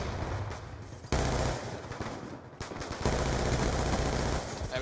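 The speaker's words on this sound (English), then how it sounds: "I'm going to try the assault rifle" Assault rifle fire in Call of Duty: Black Ops 2 comes in dense automatic bursts, fairly loud and sustained, with the sharpest volleys starting around the one- and three-second marks.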